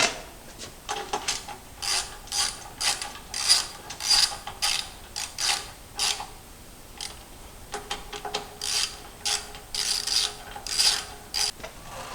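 Repeated ratcheting clicks in short bursts as linear rail bolts are tightened on an Avid Pro CNC router gantry, close and fairly loud with brief pauses between strokes, no talking.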